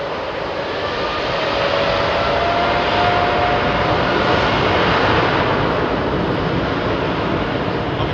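A Qatar jet airliner at Heathrow Airport at night roars loudly and continuously, a broad engine rumble with a faint rising whine, building slightly then holding steady, with no talk.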